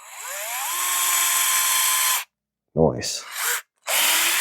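Power driver pre-threading a screw into a 3Racing Sakura D6 GA red RC car chassis: a steady whirring drill run of about two seconds, then short bursts of revving, close and loud, with a brief word spoken between them.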